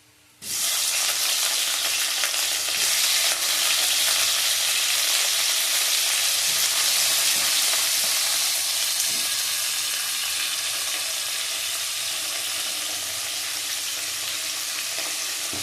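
Cauliflower florets fry in hot oil, producing a loud, steady sizzle that starts abruptly and continues without a break, gradually easing slightly. No talking.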